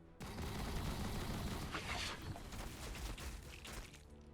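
Units firing in the Battlesector strategy game, a sustained crackle of gunfire with rapid overlapping bursts and occasional sharper shots over a rumbling background.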